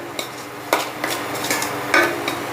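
Turmeric, chilli powder and salt frying in a pan, a low sizzle broken by several sharp scrapes and clinks of a spoon stirring against metal, close and without talk.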